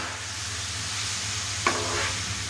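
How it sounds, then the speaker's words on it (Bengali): Bottle gourd and a hilsa fish head being stirred in a frying pan, a soft steady sizzle running throughout with a brief scrape of the spoon near the end. "আমি এখন সেই মাথার লেজটা দিয়ে দিব ভিতরে, দিয়ে সুন্দর করে এখন মিশিয়ে নিব লাউটার সঙ্গে"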